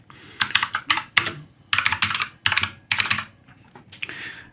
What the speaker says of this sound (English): I can just type in one line of text